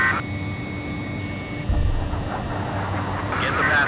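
Steady jet engine drone from fighter aircraft in the Ace Combat 5 combat flight game, a continuous roar with a rising swell partway through, holding at moderate loudness without speech.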